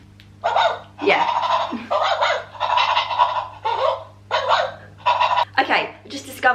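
A soft plush rocking dog toy gives off a run of repeated electronic barks, about ten short bursts in a steady rhythm, close and loud over a faint background hum.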